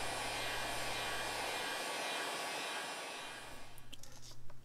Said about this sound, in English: The next thing to do is heat the leather up with a heat gun, just a little bit.